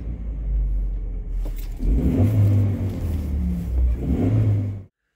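A 1994 Geo Tracker's 16-valve engine revs up sharply from a steady idle, rising in two loud, close surges with a throaty rumble before cutting off abruptly, with no speech.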